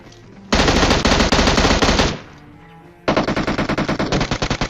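Automatic gunfire from the video game PUBG sounds in two long, loud, close bursts of rapid shots, split by a short quieter gap, with no voices heard.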